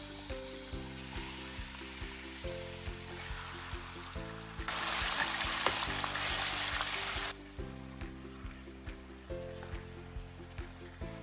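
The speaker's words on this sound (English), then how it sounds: "So I'm going to sear the lamb until it completely changes colour." Lamb pieces searing in desi ghee in a pan for lamb karahi give a steady sizzle and fry, rising to a louder, denser burst midway, with a regular tonal rhythmic pattern running beneath throughout.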